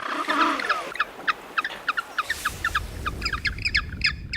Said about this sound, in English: These penguins hop around the water and call one another in short, raspy barks.